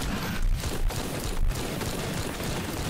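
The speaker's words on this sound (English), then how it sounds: "But that is the super artillery barrage" A super artillery barrage in the Guns Up! game sounds as a dense, continuous roar of overlapping blasts and rumbling impacts, loud and sustained for the whole stretch.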